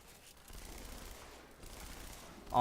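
Rapid SMG fire in the Halo video game sounds as a low, steady stream of shots, faint and continuous for about two seconds.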